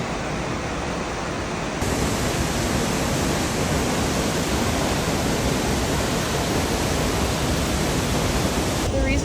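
Roaring, steady wash of Tunnel Falls waterfall, loud and close, a dense unbroken rush of falling water filling the whole clip with no talk over it.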